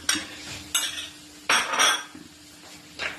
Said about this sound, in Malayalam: അതും കൂടി ഇട്ട് നന്നായിട്ട് പച്ചമണം മാറുന്നത് വരെ ഇളക്കി